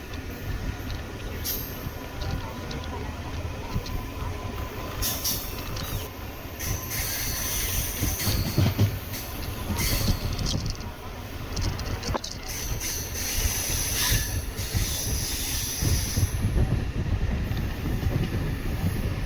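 A MEMU commuter train runs on rails between Tiruvannamalai and Tambaram, a continuous rumbling clatter with hissing and rattling swells, heard from on board near Katpadi Junction.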